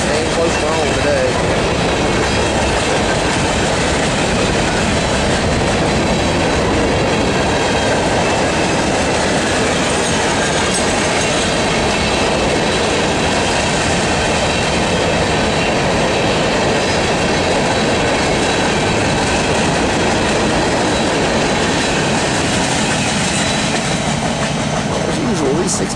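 CSX manifest freight train led by an ET44AC locomotive with an AC44 and Dash 8 rolling past at close range, a long loud continuous rumble of wheels and cars with clicking and faint squeal.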